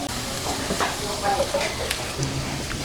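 Sliced onion dropped into a frying pan of browning garlic, a steady sizzle and hiss with light stirring scrapes, moderately close and continuous.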